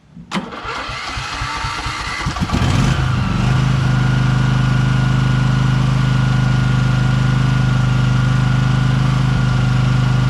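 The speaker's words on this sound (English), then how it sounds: "It's a great engine, 23 horsepower Vtwin Vanguard" A 23-horsepower Briggs & Stratton Vanguard V-twin lawn tractor engine, left sitting for a month, cranks briefly, catches with a sputter, then settles into a loud, steady idle that runs on without a break.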